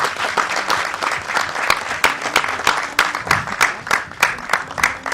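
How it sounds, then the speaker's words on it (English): Steady applause from an audience at a film festival masterclass, many hands clapping continuously and fairly loudly throughout. "To welcome him with a round of applause."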